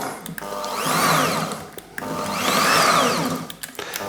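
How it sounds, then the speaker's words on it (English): An electric hand whisk runs steadily, beating caster sugar in a bowl for a chocolate and hazelnut cake, a loud continuous motor whine that swells and dips twice as the beaters move through the mix, with no talking. "I think I'll give that a quick whisk, just to kind of get it going"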